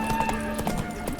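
Roach, a horse in The Witcher 3: Blood and Wine, trotting in a short burst of close hoof clops over steady in-game ambience and music.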